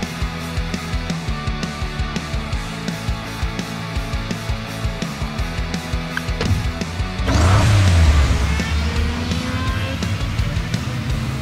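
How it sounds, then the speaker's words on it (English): Hot Wheels Unlimited race cars in an Android racing game whir and buzz with rhythmic mechanical ticking, then a louder surge of engine noise and a swelling whoosh partway through, with no talking. "Choose a car and let's race!"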